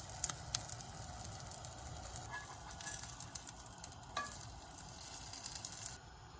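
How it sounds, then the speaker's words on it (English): A batter-soaked tortilla chip frying in a pan like French toast, giving a soft, steady crackling sizzle with scattered sharp pops, close and fairly quiet with no voices. "You hear that sizzle?"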